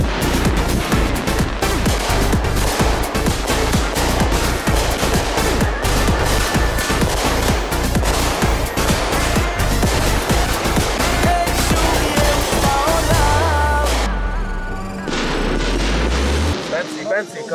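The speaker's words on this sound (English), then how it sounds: "Ready for the firework production." Fireworks display at a reunion for Camp Yeshiva, a dense run of loud bangs and booms, rapid and overlapping like a barrage, close and continuous, fading into a lower rumble near the end.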